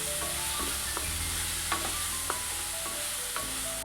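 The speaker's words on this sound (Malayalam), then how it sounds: "ഞാൻ നെയ്യിലല്ല വാട്ടിയെടുക്കുന്നത് ഇത് വെളിച്ചെണ്ണയിലാണ്" Plantain pieces fry in coconut oil with a steady, close sizzle, punctuated by a few light clicks and scrapes of stirring.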